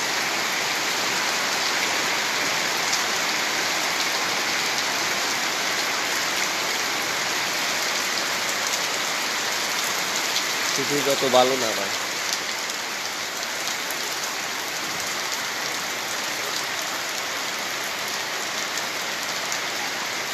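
Heavy rain falls steadily in Bangladesh, a dense, continuous hiss of drops drumming on surfaces. Someone speaks briefly once midway under the downpour.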